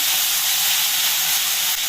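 Tomatoes and onions sauté in a pan with a steady, dense sizzle and hiss that stays even and close throughout, with no talk.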